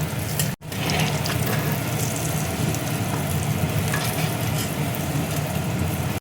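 Pointed gourd sizzles in hot oil with salt and turmeric in a pan, giving a dense, continuous frying hiss. A brief dropout breaks it near the start, and no one talks over it.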